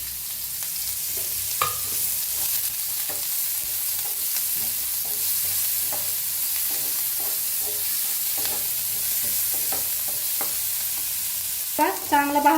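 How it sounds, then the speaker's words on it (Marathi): Chopped onion frying in a pan for a bitter gourd dish sizzles steadily and close, broken by scraping stir strokes and a burst of utensil clatter near the end, with no talk. "तर कांदा भाजून घेऊया आपण।"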